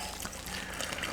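Water is poured into a bowl of mealie meal for a cake batter, a soft, faint liquid trickle lasting about a second.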